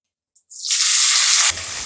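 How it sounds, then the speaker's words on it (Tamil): A sudden loud sizzle as seeds hit hot oil, a steady bright crackling hiss close by that drops slightly near the end. "எண்ணெய் சூடு ஏறிடுச்சு, கடுகு போட்டுக்கலாம்."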